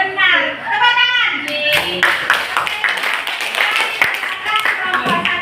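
Students clapping in a classroom after a group presentation, quick uneven claps that start just after a voice and continue with chatter mixed in, close and fairly loud.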